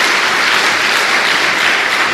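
Steady dense applause from a church congregation, loud and continuous throughout with no voices over it.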